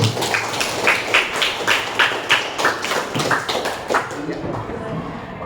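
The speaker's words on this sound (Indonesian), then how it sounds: "Tepuk tangan untuk" Participants at a teacher training session clap together in a steady rhythmic beat, about two claps per second, fairly close and loud, tapering off near the end.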